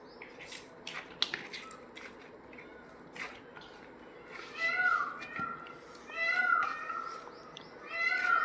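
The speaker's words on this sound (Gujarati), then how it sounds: "જો મોરનો અવાજ આવે છે" Peacocks perched in a tree behind a house calling from a distance, several drawn-out nasal cries repeating over kitchen sounds, with light tapping and someone speaking at times.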